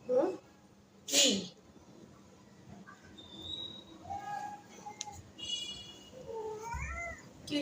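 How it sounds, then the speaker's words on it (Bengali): A cat meows a few times, short rising and falling cries at moderate distance, mixed with a person's voice talking to it in a quiet indoor room. "মিয়াও"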